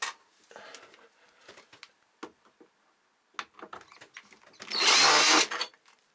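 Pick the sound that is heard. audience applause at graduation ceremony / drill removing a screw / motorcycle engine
drill removing a screw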